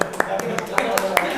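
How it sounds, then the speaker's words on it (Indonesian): A classroom applauding, with brisk hand claps repeating in a steady rhythm at moderate loudness, fairly close by. "Tepuk tangan."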